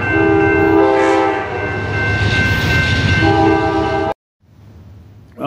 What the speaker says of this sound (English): We've got a train coming by, so you will be hearing a whistle very soon, or horn.